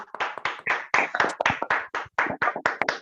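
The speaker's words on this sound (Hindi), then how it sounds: "यस, जोरदार तालियों से स्वागत किया जाए" Loud, close clapping in a sales seminar hall welcoming a speaker, a series of sharp distinct claps in a brisk uneven rhythm with brief gaps, no talking over it.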